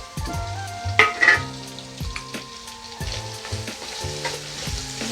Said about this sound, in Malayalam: ഇതൊന്ന് നല്ലതുപോലെ ഒന്ന് വഴറ്റിയെടുക്കാം